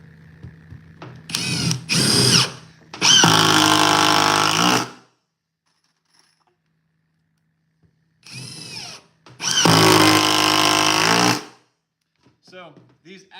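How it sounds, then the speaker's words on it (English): Ryobi power drill driving long screws into thick wood, two bursts of whirring and grinding with a short start-up rev, loud and close, separated by silence. "getting these long screws into thicker wood"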